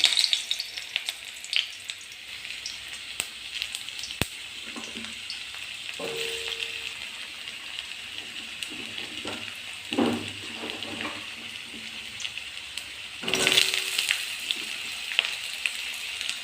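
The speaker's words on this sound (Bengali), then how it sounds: "পটল আলু এগুলো ঝিঙে দিয়ে দিলাম কলা দিয়ে দিলাম মানে সবজিগুলো ভালো করে তেলে মেরে ফেলে ভেজে নেব" Pointed gourd, potato, ridge gourd and plantain fry in hot oil with a steady hiss, broken by a few stirring clatters. A louder burst of sizzling comes near the end.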